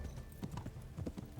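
Hooves clip-clop as a horse moves at speed in the Kingdom Come video game, with a quick, uneven drumming of a few close strikes.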